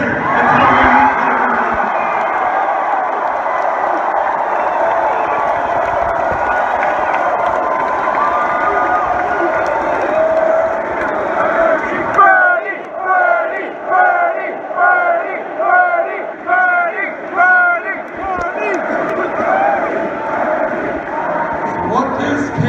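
A large crowd at a Bernie Sanders campaign rally in Richmond roars and cheers loudly, then breaks into rhythmic, pulsing chants with sustained shouting throughout.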